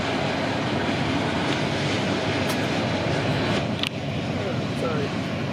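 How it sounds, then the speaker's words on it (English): A heavy train rumbles past close by, a steady loud roar of rolling wagons with faint metallic squeals, and a voice speaks over it. "That is a very big train."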